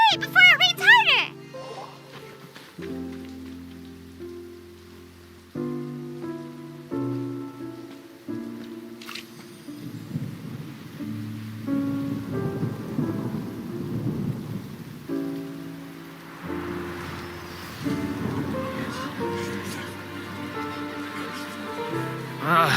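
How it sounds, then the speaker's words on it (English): Steady rain and rumbling thunder from the video game Genshin Impact, layered under tonal game music that carries on throughout. "Oh, huh? It's raining!"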